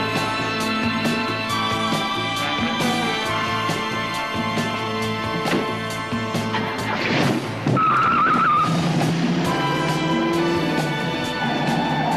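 In a police and crime drama scene, a car speeds away with its tires squealing and skidding. The engine roars loudly over a continuous music score, and the screech swells and shifts near the middle.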